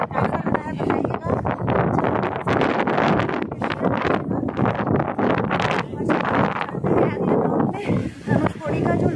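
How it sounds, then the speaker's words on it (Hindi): Strong coastal wind at Dhanushkodi, the ghost town near Rameshwaram, buffets the microphone as loud continuous roaring gusts throughout, with someone talking over it. "देखिए बहुत तेज़ हवा चल रही है।"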